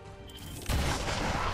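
A single gunshot fires in XCOM 2 at about the midpoint, a sudden loud broadband blast that follows quiet game ambience and leaves a sustained rumbling tail.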